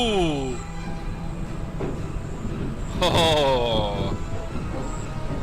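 A ride train rolls along its track in the theme park simulation game Ride Sims 2, a steady mechanical rumble with rising and falling tonal whines, while a voice briefly exclaims over it.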